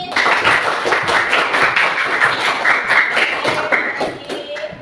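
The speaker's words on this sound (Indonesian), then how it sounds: "Beri tepuk tangan sekali lagi." Classroom students giving a round of applause, many hands clapping in a brisk, fairly loud and continuous patter with irregular accents, a faint voice briefly audible near the end.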